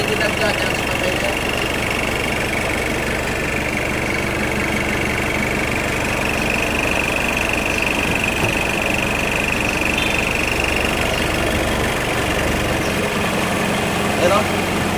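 A car engine idles steadily and loudly throughout, on a vehicle with a battery that is not charging. People talk over the constant hum.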